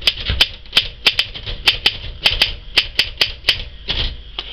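A 1925 Royal Model 10 manual typewriter taps out a steady run of sharp, crisp key strikes at an uneven typing rhythm, close and loud with no talking over it.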